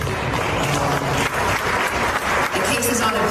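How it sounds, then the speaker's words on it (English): An audience applauding Letitia James, dense sustained clapping filling the room for a few seconds, loud and close with no pauses. "then she's applauded for making comments like this"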